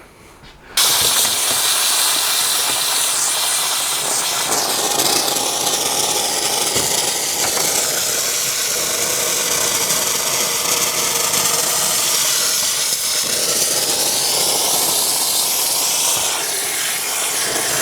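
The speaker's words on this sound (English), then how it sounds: "I've just plugged my Karcher steam cleaner in. I'm just waiting for that to get warm" A Karcher steam cleaner heating up indoors, starting abruptly and then a loud, continuous broadband hiss with a faint low hum beneath, steady throughout with no talk.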